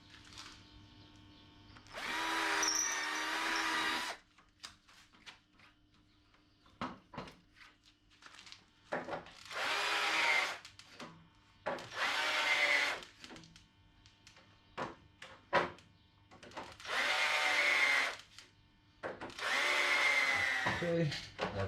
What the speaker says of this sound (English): I'm gonna drill the holes on the boom as well